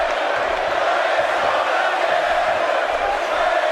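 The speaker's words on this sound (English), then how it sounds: "You hear this crowd screaming, Bray is going to kill you." A wrestling arena crowd roars and shouts at a live match, a continuous loud wall of massed voices with scattered yells rising out of it.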